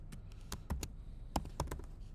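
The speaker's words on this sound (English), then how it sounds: "I'm typing in uppercase" A few light, quiet keystrokes tap on a computer keyboard, scattered clicks in a short burst, alone in a quiet room.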